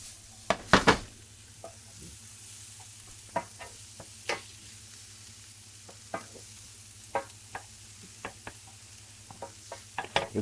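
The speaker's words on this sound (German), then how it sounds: "So, dann brauchen wir eine schöne Zwiebel an. Zwiebel geben uns eine schöne Bindung. Lassen wir ein bisschen mitgehen." Chopped onion frying in a pan with pork neck and a caraway-honey glaze, a low steady sizzle broken by scattered stirring clicks and scrapes, including a louder clatter near the start.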